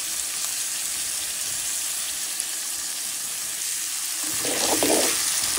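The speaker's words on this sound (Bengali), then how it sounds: "একসাথে ভেজে নিব" Onion, green chilies and salt frying together in oil left over from frying fish, a steady close sizzle throughout that swells louder and brighter near the end as the pan is stirred.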